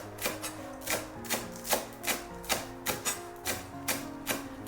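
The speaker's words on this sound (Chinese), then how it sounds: "再把葱叶给它切成葱花。" A knife chops scallion leaves into small pieces on a cutting board, giving about a dozen crisp, evenly spaced taps at a steady rhythm, close and clear.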